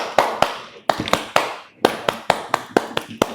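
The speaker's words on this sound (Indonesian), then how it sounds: "Tepuknya itu seperti tepuk pramuka" Rhythmic hand clapping of the 'tepuk wajib bagi Rasul' classroom clap pattern, a close, crisp sequence of about a dozen sharp claps in short grouped bursts with brief pauses between groups, no talking.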